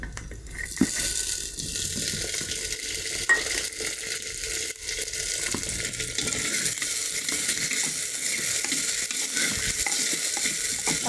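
Chopped tomatoes go into a pan of frying shallots, producing a continuous sizzle with the scrape and clatter of stirring and a few sharper knocks near the start.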